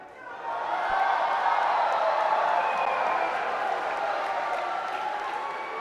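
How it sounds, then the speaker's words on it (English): A snooker crowd breaks into applause and cheering after a potted ball, a broad wash of clapping that swells quickly and holds steady, slightly distant in the arena. "This crowd are waiting to exhale, cheering every ball potted now, even the most straightforward."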